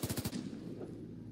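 A higher-pitched weapon in an FPS Toolkit shooter game fires a rapid burst of four close, punchy shots, followed by a short fading tail.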